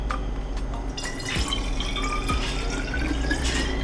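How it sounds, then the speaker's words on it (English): Jalapeño popper cocktail mix poured from a freshly opened bottle into a container, a steady liquid trickle with a few soft drips and clinks running for a few seconds in a quiet kitchen. "I'm going to take half of this and pour it in here."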